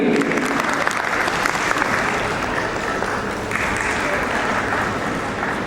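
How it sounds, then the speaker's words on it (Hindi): Steady, dense applause from an award ceremony audience at a fashion week event in a hotel, filling the room evenly from start to finish without a break. "हो सके तो तालियां भी।"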